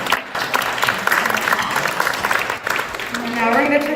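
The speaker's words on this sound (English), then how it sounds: "A round of applause for Emily." An audience at a community event applauds a speaker with a burst of moderate clapping, while voices talk over and through it.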